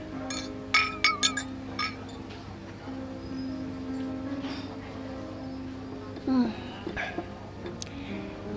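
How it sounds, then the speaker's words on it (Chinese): Glasses clink together in a toast during a drama scene, a cluster of bright, ringing taps early on followed by a quieter stretch and another brief clink and rustle near the end. "干杯！"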